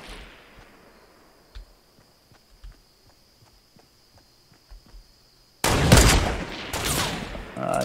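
Sniper rifle shots ring out in a Fortnite match: after a quiet stretch of faint ticks and footsteps, two loud, sharp blasts arrive close together near the end, each trailing into a dense burst of noise.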